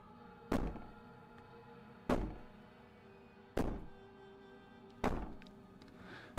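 Four heavy, evenly spaced bangs inside the video game Slay the Princess, each a loud booming thud with a short decaying tail, separated by a quiet background hum.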